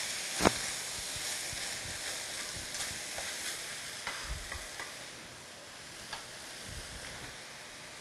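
Meat and mushrooms stir-fried vigorously in a frying pan, with a quiet, close sizzle and scattered sharp clicks and scrapes from utensils, and no voices.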